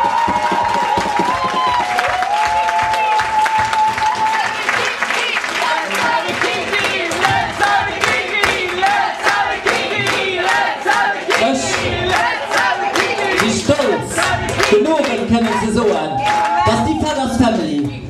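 A crowd at a family stage show in Kayl, Luxembourg claps, cheers and shouts loudly for a sustained stretch, with music and voices mixed in.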